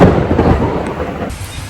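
Rain and thunder at a hotel pool, with a loud deep rumble and crackle that fill the air. The rumble eases partway through, leaving a steadier wash of rain.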